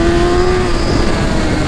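A Honda CB1000 motorcycle engine accelerates up close, a loud, steady rising drone with a clear tonal whine and no talk.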